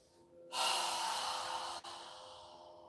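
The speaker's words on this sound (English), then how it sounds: "take 3 deep breaths, inhaling through our nose and exhaling strongly through our mouth" A deep breath during a beginner yoga session: a quiet lead-in, then a strong, close rush of airflow held for over a second, a brief break, and a softer continuing breath.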